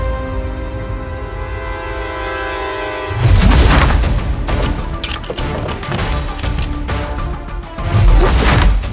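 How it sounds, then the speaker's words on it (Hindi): Loud booming gunshots in a Hindi web-series drama scene, several heavy blasts and crashes following a sustained tonal musical drone, close and dominant with no speech. "रुको, हम बंदूक निकालते हैं अपनी।"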